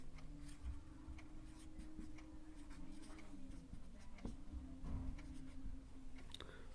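A pen scratches steadily across paper while a maths equation is written out, giving soft close strokes and small taps over a low background hum, with no talking.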